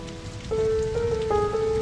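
Driving rain pours down in a steady, dense hiss, with sustained tones layered over it from midway.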